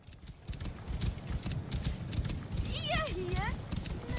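Hooves clip-clop steadily as a horse moves in Assassin's Creed Origins, with a rising, wavering whinny near the end; a person talks over the hoofbeats throughout.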